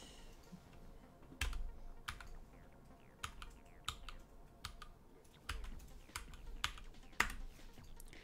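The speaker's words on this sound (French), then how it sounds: "je pense que vous avez bien dû entendre les claques du clavier" A computer keyboard is typed on in bursts of sharp clicks, with some louder key slaps and short pauses, close up and without speech.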